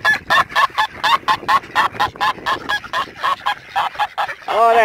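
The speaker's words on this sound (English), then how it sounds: "I got some happy ducks and geese" Ducks and geese honk in a rapid, repeated chorus of loud nasal calls, close by and nearly continuous, with a few quacks mixed in.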